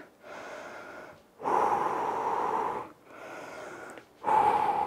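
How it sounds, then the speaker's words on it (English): Heavy breathing during recovery after three sets of an at-home fat-loss workout, with loud, rhythmic in-and-out breaths in four bursts and short pauses between them, close and alone. "Breathe."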